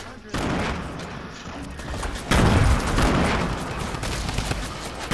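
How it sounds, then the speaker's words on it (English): Video game gunfire with shotgun blasts, loud bursts and booming shots layered densely over several seconds, close and heavy, with no clear speech. "that's Alvin shooting from behind us"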